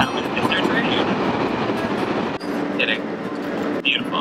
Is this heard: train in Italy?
yes